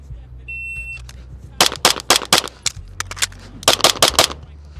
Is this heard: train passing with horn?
no